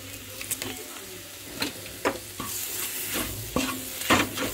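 Onions sautéing in a pan for mutton dum biryani, steady sizzling under frequent spoon scrapes and taps against the pan, nearby and with no talking.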